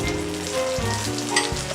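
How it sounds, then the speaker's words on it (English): Green and red salsas with garlic simmer and sizzle in a pan, a brief, continuous frying hiss with tonal music behind it. "While the salsas are simmering"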